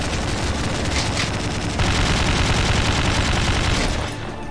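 Dense, continuous automatic gunfire from a weapon in the video game Slendytubbies 3 roars loudly for several seconds, with a brief shift partway through and a slight tail-off at the end.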